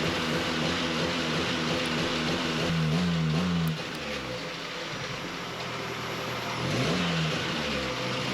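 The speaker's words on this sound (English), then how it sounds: "I am not pumping the throttle, it's just surging." A Nissan Hardbody truck engine with an idle fault surges on its own, the close idle note rising and falling in wavering pitch sweeps, then settling lower before climbing again.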